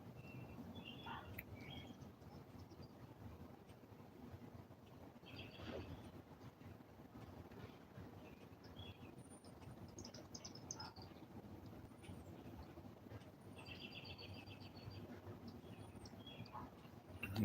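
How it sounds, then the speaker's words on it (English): Baby bird chirping outdoors, faint thin calls scattered through a steady low rumble of distant background noise. "Hearing a little baby bird around here"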